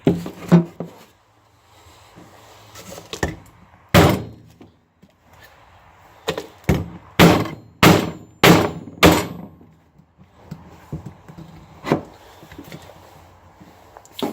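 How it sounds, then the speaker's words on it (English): A SOG folding entrenching tool's pick strikes a tin can on a workbench, a series of loud, sharp metallic thunks, some isolated and some in a quick run of five or six, with short pauses between. "we're going to use the pick to see if it can penetrate it"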